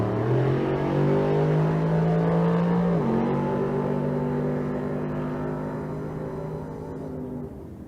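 Drag-race cars, a 1964 Malibu and a Camaro, roar at full throttle down a racetrack strip, a loud sustained engine howl with a gear-change drop in pitch partway through, fading slightly toward the end.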